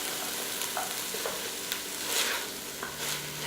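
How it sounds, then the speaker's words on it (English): Toasted pumpkin and onions stirred together in a pot for a paleo pumpkin chili, giving a steady low sizzle with soft scraping strokes of the spoon, close and continuous, with no talking. "we can kind of now mix this all together with the onions"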